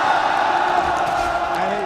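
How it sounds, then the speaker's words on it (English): Fans at the 2009 WCG Grand Final WarCraft III match cheer and applaud as a steady, dense crowd roar that holds level throughout, with no single voice standing out. "it's met by a round of applause from the fans"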